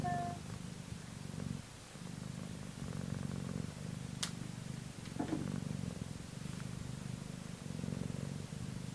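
A cat curled in a basket in a bookshelf corner purrs steadily and very close, a continuous low rhythmic rumble with faint rustling and a couple of soft clicks.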